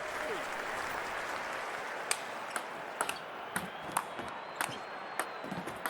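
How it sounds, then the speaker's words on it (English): Crowd applause and cheering in the London 2012 Olympic video game, a steady wash of clapping with sharp ticking and pinging game sounds scattered over it. "The crowd go wild"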